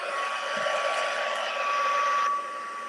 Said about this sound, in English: I think I'll heat set that, and then I'll do the other side as well.